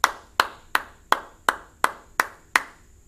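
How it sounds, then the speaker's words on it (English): Bare hands clap a song's rhythm during a music lesson. Eight sharp, close claps fall at a steady, even pace, each ringing briefly in an otherwise quiet room. "Okay, let's put it in our brain and just clap it."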